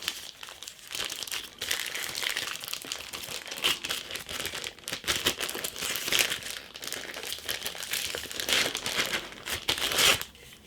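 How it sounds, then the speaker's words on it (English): An Olight Olantern camping lantern is pulled out of its bag, giving a continuous close crinkling and rustling of packaging for about ten seconds with no voices. "So we'll just pop the torch out, or the lantern out of its bag."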